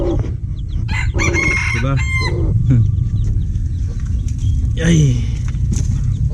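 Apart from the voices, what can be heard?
chickens and rooster clucking and crowing, chicks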